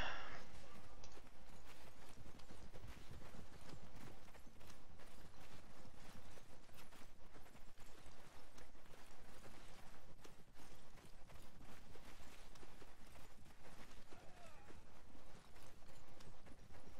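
Goblin goat riders gallop in Mount and Blade during a Full Invasion 2 mod battle, a dense steady clatter of hoofbeats under busy battle noise, with creaks and clanks throughout.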